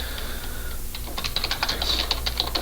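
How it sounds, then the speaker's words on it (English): Quick, light keystrokes on a computer keyboard as a vendor name is entered: a short burst of close, crisp clicks in an uneven rhythm over a low background hum. "All you need to do with this one is type in a vendor name,"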